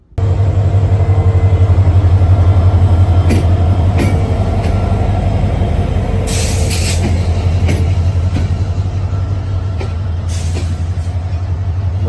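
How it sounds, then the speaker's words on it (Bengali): The Howrah Express pulls out of the station bound for Netrokona with a loud, steady rumble of wheels and carriages, plus a few faint squeals and clanks. "আমাদের ট্রেনটি নেত্রকোনার উদ্দেশ্যে অলরেডি ছেড়ে দিয়েছে"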